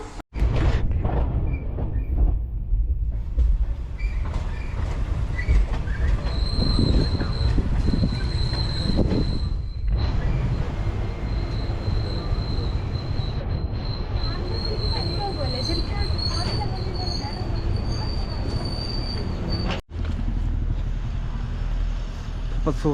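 A train travelling toward Varkala gives a continuous loud rumble of wheels and carriages, with a sustained high squeal from the wheels and a brief dip near the end.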